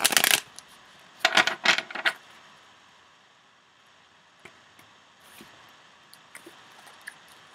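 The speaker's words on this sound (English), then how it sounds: "Shuffle it to make it a bit looser." A deck of sticky playing cards being shuffled by hand, giving a few quick riffling bursts near the start, then quiet with faint handling clicks.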